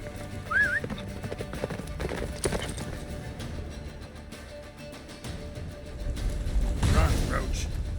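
Steady clip-clop of a horse galloping in The Witcher 3 video game, hoofbeats running throughout over game ambience, with a brief whinny and voices mixed in.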